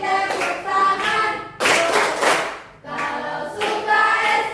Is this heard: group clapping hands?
yes